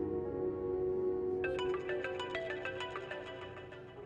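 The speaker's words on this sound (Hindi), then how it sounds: "मेरा अदनान का फोन आ रहा है, मुझे अब जाना होगा।" A phone ringtone starts about halfway in, a bright repeating electronic melody over a steady droning background, staying fairly loud and fading slightly toward the end.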